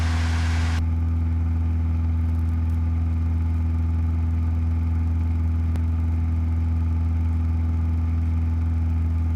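Cessna 172 engine droning steadily in flight at night, a strong low hum with a brief change in tone near the start as the throttle moves, then holding even and loud throughout.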